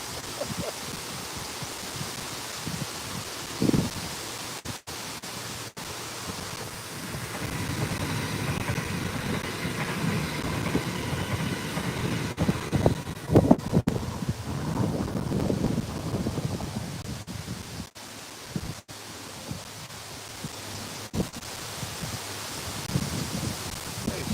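Wind rushes through a bush right beside the microphone at a railway lineside, giving gusty, rising and falling rustling and buffeting with a few sharp thumps.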